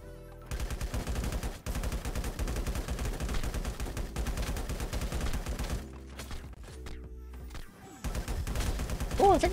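Dense, continuous gunfire in the LifeAfter survival shooter, rapid overlapping automatic shots and fusillades over several seconds, with a brief lull and a voice heard faintly under the fire.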